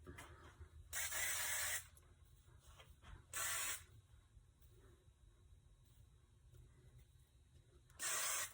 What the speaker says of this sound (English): So let me get some hairspray.